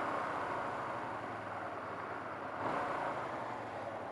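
Hyosung GT250R motorcycle idling a little high, a steady low engine hum running evenly throughout, moderately quiet and unchanging apart from a slight bump in level partway through.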